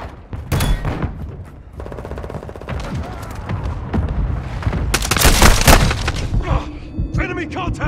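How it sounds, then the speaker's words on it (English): Gunfire and booming mortar impacts in Call of Duty: Modern Warfare II, with loud cracks and rattling bursts over a rumbling battlefield, as a voice speaks over the combat. "Hostile mortar strike near your position."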